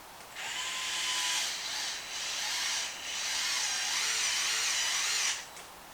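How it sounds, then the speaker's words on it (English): A power driver tightens a screw into an aluminum steering block on a Traxxas Maxx RC truck. It gives one steady, high-pitched whir of about five seconds, dipping briefly twice as the load changes, close up with no talking. "Put in your screw and tighten it up."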